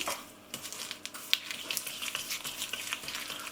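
Butter and sugar are worked together in a bowl for chocolate shortbread, a soft, close scraping and mashing texture that repeats steadily in short strokes with no talk.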